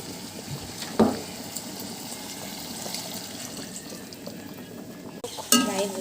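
A prawn malai curry simmers in a pan after Amul milk is poured in, giving a low bubbling hiss under a couple of sharp utensil knocks and stirring scrapes, with no voices.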